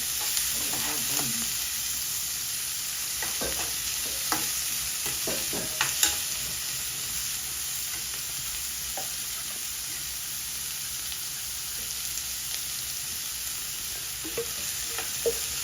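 Onions with curry leaves, green chillies and salt saute in a pan for aloo bonda: a soft, steady sizzle runs throughout, dotted with light scrapes and taps of a stirring spoon.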